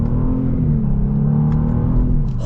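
A 2021 Genesis G80 Prestige with a turbo engine accelerates hard, a deep engine rumble rising steadily as it pulls, heard from inside the cabin.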